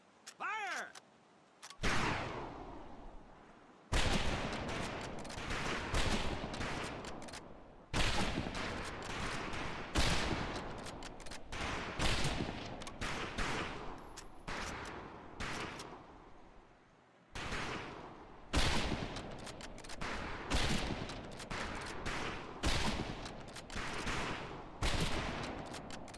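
Rifle volleys on a shooting range in Medal of Honor Pacific Assault: loud, repeated gunshots at an uneven pace over about half a minute, with brief pauses between bursts and a few short gaps of silence.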